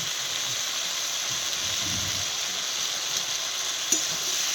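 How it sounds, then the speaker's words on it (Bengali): A mustard and poppy seed paste frying in a pan, giving off a steady hissing sizzle, with a brief scrape or knock near the end, close and without voices. "তা ভালো করে ভেজে নিচ্ছি নেড়ে চেড়ে।"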